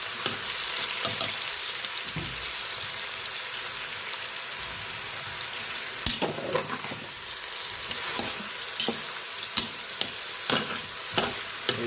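Ratatouille vegetables sizzling and frying in a Cookeo multicooker, a steady soft hiss broken by scattered clacks and scrapes of stirring, close and fairly quiet with no talk.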